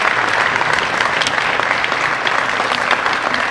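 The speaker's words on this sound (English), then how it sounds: "Can we have a round of applause for all of our Hall of Fame" Steady, dense applause from a ceremony audience honoring Hall of Fame members, continuous broadband clapping at full level throughout with no pauses.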